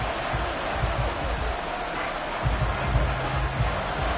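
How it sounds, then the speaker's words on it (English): A steady roar from a stadium crowd in an American football video game, swelling slightly before a big third down, continuing as a dense, unbroken wash of cheering with faint commentary underneath. "The crowd getting into it as we come up on a big 3rd down."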